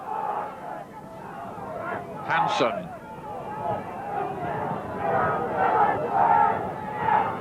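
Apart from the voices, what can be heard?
rugby league match crowd, Keighley v Salford, making tremendous noise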